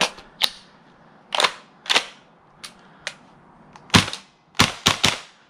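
A custom airsoft gun with an HPA engine fires semi-automatic, giving about ten sharp, close, single pops at irregular intervals, some in quick pairs, with quiet between shots.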